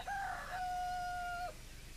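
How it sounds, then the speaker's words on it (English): A rooster crows once in a long, clear, drawn-out call that rises and then holds steady before breaking off, fairly close, set against a quiet outdoor background with no talking. "somewhere out there a cock's crowing"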